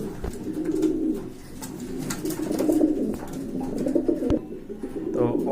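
Several pigeons, including a big-sized pair, cooing close by in low, rolling throaty calls, with brief rustles and clicks mixed in.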